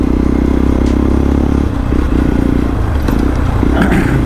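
A motorcycle fitted with a loud aftermarket exhaust rumbles steadily and close, a deep throbbing note dominating throughout with some clatter and road noise on top.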